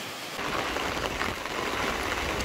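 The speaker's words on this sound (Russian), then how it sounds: "Вот такой вот дождливый" Steady rain falls on a wet day, a dense even hiss of drops on surfaces that continues without a break for the whole stretch, with no talk over it.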